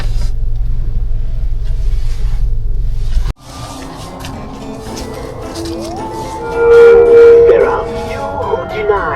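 A car cruising through a residential neighborhood gives a steady low engine rumble for a few seconds before it cuts off abruptly to a quieter outdoor scene.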